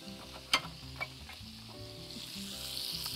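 Potatoes frying in oil for a potato salad, a soft continuous sizzle with a couple of sharp utensil clicks early on, fairly quiet throughout.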